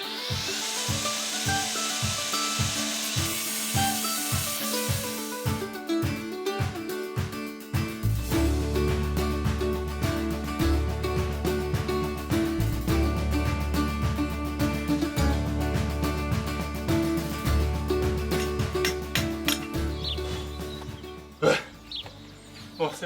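A heavy power tool cuts through concrete for a new heat pump foundation, starting with a rapid hammering pulse, then turning to a loud continuous grinding whine that holds with a shifting pitch before breaking off near the end.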